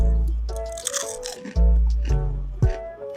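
A large spicy kangkong chip is bitten and chewed up close, giving loud, sharp crunches in quick bursts followed by crackling chewing.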